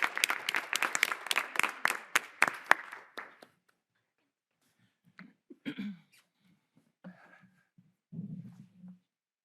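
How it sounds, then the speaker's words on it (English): A small audience at a school board meeting gives a brief round of clapping, a few seconds of sparse, distinct hand claps that fade out, followed by quiet with scattered low murmurs and shuffling. "One more round of applause."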